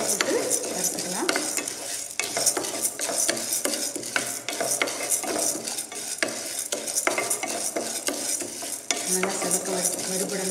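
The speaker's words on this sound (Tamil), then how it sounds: "இது கொஞ்சம் நல்லா வறுபட்டது, நம்ம அதை விட மிளகாயும் போட்டு வறுத்துக்கலாம்" Toor dal lentils and chillies dry-roasting in a pan for paruppu thuvaiyal, with continuous scraping and stirring of a spoon against metal over a light sizzle, close and busy throughout.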